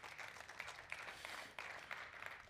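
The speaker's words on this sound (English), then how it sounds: "Let's have a big round of applause for this wonderful achievement" Quiet, distant applause from an audience at the Mahindra Futurescape grand premiere of a farm tractor, a steady wash of many hands with small swells and no talk.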